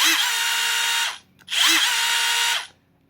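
Compact cordless impact wrench whirring in two bursts, each starting up sharply, running at a steady high-pitched spin for about a second, then winding down, heard close and loud with a short pause between.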